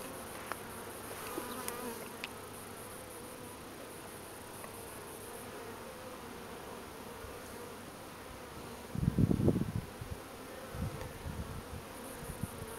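Low insect buzzing hums steadily beneath outdoor ambience, with a louder burst as a bee passes close by.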